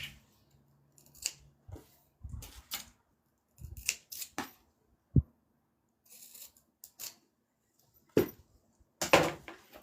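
Scissors snip through fabric while sewing, trimming the sides in a series of short, crisp cuts separated by pauses, close and fairly quiet, with a few soft handling rustles between.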